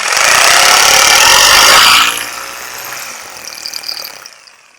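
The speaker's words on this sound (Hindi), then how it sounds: "इसको आगे की साइड ऐसे प्रेशर किया और हम मशीन को चालू करते हैं" Hammer drill machine boring a hole into a wall: a loud, close grinding, rattling whir for about two seconds, then it cuts off into quieter winding-down clatter and scraping.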